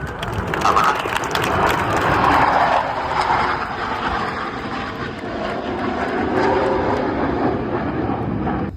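Blue Angels jets passing overhead at an air show, a loud, broad roaring rush that swells and holds for several seconds, then eases slightly and builds again.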